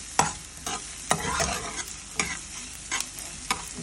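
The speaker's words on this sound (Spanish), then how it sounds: "Solo salteada, no frita, no cruda, salteada" Food sautéing in a pan for an omelette, with soft sizzling beneath repeated scraping strokes of a utensil at an uneven rhythm, close and moderately loud.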